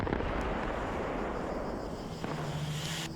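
An AGM missile strike explodes in a combat video game, a heavy rumbling blast that fills the clip as a continuous roar with debris-like crackle, no voices heard.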